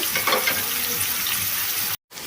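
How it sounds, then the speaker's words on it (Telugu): Onion pieces and curry leaves fry in hot oil for bottle gourd curry, a steady close hiss and crackle that runs unbroken before stopping abruptly near the end. "ఈ ఉల్లిపాయ ముక్కలు మనకి దోరగా ఫ్రై అయిపోవాలండి"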